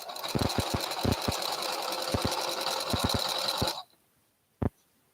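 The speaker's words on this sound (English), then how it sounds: "right now I'm just sewing a straight line down the whole thing" Loud, close whirring of a sewing machine running a straight stitch on knit fabric for a few seconds with sharp clicks along the way, then it stops abruptly, followed by one brief knock.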